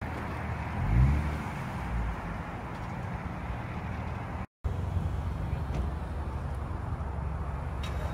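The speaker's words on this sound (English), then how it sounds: "Here's the crew rolling into our parking spot" A group of Honda and Acura cars rolls slowly into a parking spot, giving a steady, close engine and tire rumble with a brief swell near the start and a momentary cutout midway.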